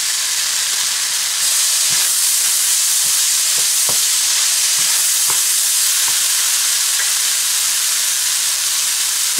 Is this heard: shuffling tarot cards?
no